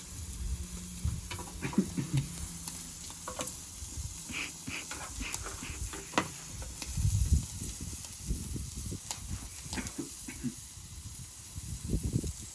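A thick piece of pork belly, pressed flat on a grill for fajitas, sizzles with a soft steady hiss. Occasional nearby thumps and scrapes break through the sizzle.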